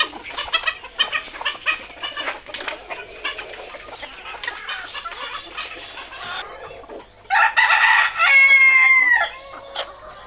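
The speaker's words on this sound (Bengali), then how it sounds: "বেশি মুরগিগুলোকে ছেড়ে দিলাম। এবার এদেরকেও খাবার দিয়ে দেবো।" Chickens let out of their coop, clucking in busy bursts close by, then a rooster crows loudly twice near the end over quieter background clucking.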